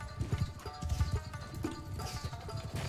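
Horse hooves clip-clop in a steady trotting rhythm during a battle in the samurai game Shokuho, mid-level and continuous beneath a busy game soundscape.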